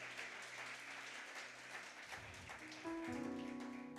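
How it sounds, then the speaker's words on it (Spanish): Church congregation applauding during a Spanish-language sermon, a steady moderate wash of clapping that thins out midway, followed by sustained keyboard or organ tones rising beneath it. "Denle un fuerte aplauso al Señor"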